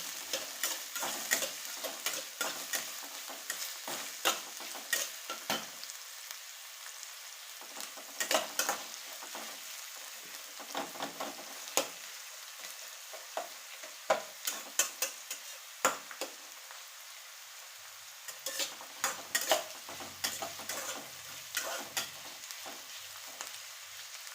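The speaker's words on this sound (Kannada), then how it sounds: "ಇದನ್ನು ಫ್ರೈ ಮಾಡ್ತೀನಿ ಚೆಂದಾಗಿ" Onions frying in a pan on a gas stove with a steady close hiss, broken by repeated bursts of spatula scraping and stirring.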